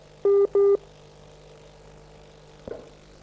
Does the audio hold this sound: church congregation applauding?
no